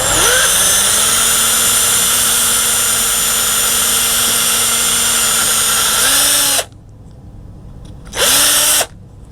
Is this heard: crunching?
no